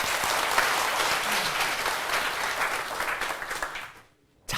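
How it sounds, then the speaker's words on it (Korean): A Buddhist temple audience applauds in a loud, dense burst of clapping that holds steady for about four seconds, then stops abruptly. "박수 부탁드립니다."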